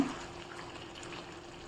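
Water poured into a pan of chicken liver fry cooking on the stove, a soft steady trickle and pour running throughout at low, even level with no talk.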